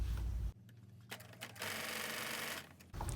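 A sewing machine stitches quilt crumb block pieces in short close bursts: a loud whirring run, a pause with light clicks, then a longer steady run of stitching, with no talk.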